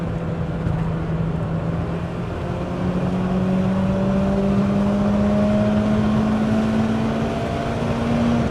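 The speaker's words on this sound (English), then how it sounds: "Third gear, got to really get your foot down and rev it out, man." BMW E30 M3, a 32-year-old Japanese import, revving hard in third gear, its engine note climbing steadily and loud from inside the car, with no voices.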